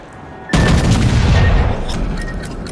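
In the naval battle game World of Warships, torpedo explosions hit a burning ship with one sudden loud booming blast, followed by a long rumbling roar that slowly fades.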